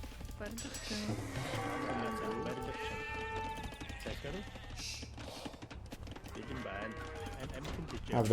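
A sheep bleats a few times in the Age of Empires strategy game amid soft hoof clatter and ambient game noise, while someone talks over it.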